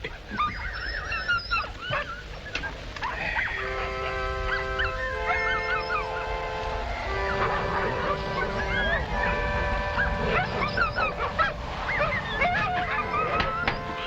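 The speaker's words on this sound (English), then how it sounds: "Dogs are noisy tonight." Several dogs howling, yipping and whimpering at night, a chorus of wavering howls and yelps rising and falling close by, with some background voices mixed underneath.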